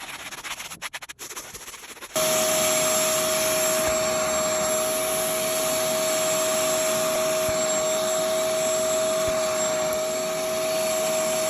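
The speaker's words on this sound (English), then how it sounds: "We vacuumed the entire couch." After a couple of seconds of brushing and rustling, a vacuum cleaner switches on and roars loudly and continuously at close range while cleaning upholstery on a couch.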